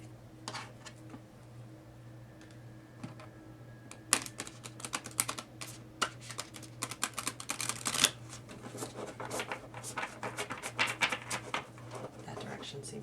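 Tarot cards are shuffled clumsily, a run of uneven riffling clicks and slaps that starts sparse and grows busier, close and fairly quiet, with a low steady hum underneath and a person speaking.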